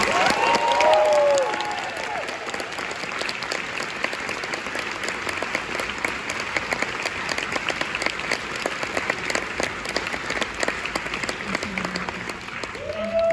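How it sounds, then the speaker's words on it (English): Big round of applause and cheering from an audience at a film Q&A for Love Lies Bleeding, dense continuous clapping with scattered whoops, loud and sustained throughout, a few voices briefly rising above it. "can we just get another really big round of applause?"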